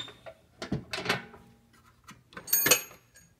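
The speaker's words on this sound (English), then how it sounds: "The drawers do not open. They wiggle, but they don't open." Locked toolbox drawers being tugged so they wiggle and rattle without opening, several short clattering bursts with brief pauses between them, close up.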